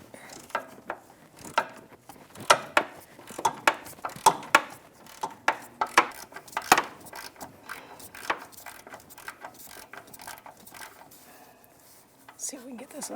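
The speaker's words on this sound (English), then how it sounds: "I get my 16mm deep socket on that sway bar bushing bracket, and I'm going to break it free." Sharp ratcheting clicks and metallic knocks from a 16mm deep socket working a sway bar bushing bracket bolt loose on a 2009-2014 Nissan Maxima, close and irregular, with someone talking at times.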